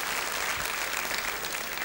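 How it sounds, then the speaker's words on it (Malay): A studio audience on a 2002 Malaysian television entertainment show gives a round of clapping, a dense, even wash of applause that holds steady for under two seconds. "Satu tepukan untuk Kak Wan"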